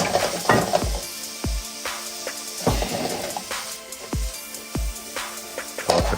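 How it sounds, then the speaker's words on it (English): Cooked macaroni sizzles in a hot pan with sweating garlic over a lowered flame, a steady frying hiss broken by several sharp knocks and scrapes of a utensil tossing the pasta against the pan. "Now you put your 2 cups of that cooked macaroni in there."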